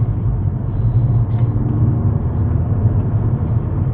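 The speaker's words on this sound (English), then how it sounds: "a lot more aggressive on the sound in sport mode" Aggressive engine rumble from a Mercedes-Benz A45 AMG in sport mode, a rare Petronas Green Edition, a steady loud low drone from inside the moving car with no voices.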